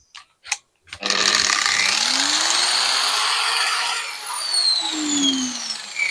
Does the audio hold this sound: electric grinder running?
yes